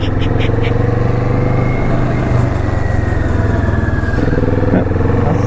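Kawasaki Vulcan S motorcycle with the throttle rolled off, a steady, loud engine drone with a low rumbling pulse and a faint high whine running through it, no voices on top.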